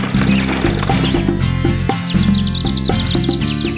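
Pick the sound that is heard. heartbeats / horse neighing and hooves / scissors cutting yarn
horse neighing and hooves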